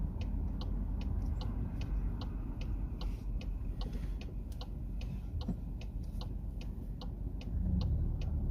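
Car turn signal indicator ticking at a steady even rhythm inside the cabin during a driving test route, clear above a continuous low engine and road rumble, with no talking.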